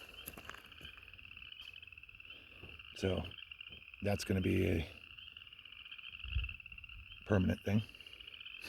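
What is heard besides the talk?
frogs croaking near a pond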